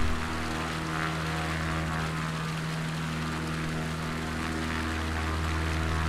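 A Cubcrafters XCub light propeller plane flies with flaps extended, its engine and propeller producing a steady, close drone inside the cabin throughout.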